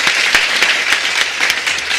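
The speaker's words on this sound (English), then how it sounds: "Clap for yourself, people." Audience applause fills the room at a live morning event, a dense, steady wash of many hands clapping with sharp individual claps standing out throughout, loud and continuous.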